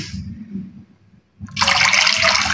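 Water is poured into a pot of roasted barley porridge, arriving as a loud, steady rushing splash that starts abruptly after a brief quiet gap, with a voice talking beforehand.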